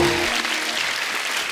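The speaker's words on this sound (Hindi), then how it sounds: "आलिया के लिए जोरदार तालियां।" Studio audience applause for actress Alia Bhatt on the Kapil Sharma comedy show, a short, dense burst of clapping that fills the whole moment and tapers slightly.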